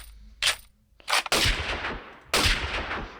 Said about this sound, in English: Has big recoil. The Lee Enfield sniper.